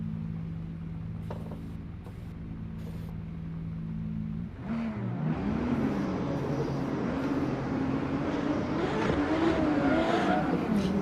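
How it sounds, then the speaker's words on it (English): Toyota Supra leading a Nissan S15 in a drift competition battle at Mondello: engine drone holds steady, then surges into roaring revs and tire noise midway, loud and continuous with pitch sweeps as the cars slide. "it is the Supra that will lead the S15 on this first run"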